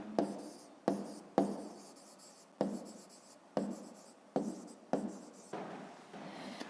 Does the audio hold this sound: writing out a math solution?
yes